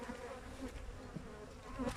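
Honey bees buzz steadily at a hive during a spring inspection, a thick continuous droning hum with a few louder passes of individual bees nearby, no talking.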